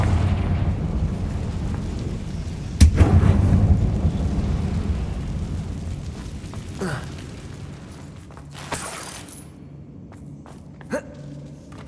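Confringo blasting spell in Hogwarts Legacy, a sharp blast followed by a deep rumbling boom that slowly decays, with a few later crackling impacts over a low ambient drone.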